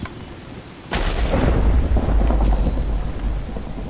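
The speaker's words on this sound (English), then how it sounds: "I need to sleep this thunderstorm away." In the Minecraft modpack Enigmatica 8, a sharp thunder crack breaks over steady rain and then rolls into a heavy, lingering rumble while rain keeps pattering; no talking.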